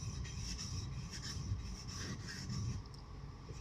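Knife blade drawn steadily across a DMT extra coarse diamond sharpening stone, a continuous close rasping scrape with repeated stroke surges and no talk.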